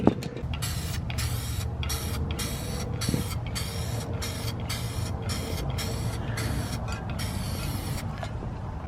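An aerosol can spray-paints the 150-grit-scuffed cowl and wiper arms of an EJ6 Honda Civic Si in a dozen or so short, sharp hissing bursts separated by brief pauses, heard close and alone.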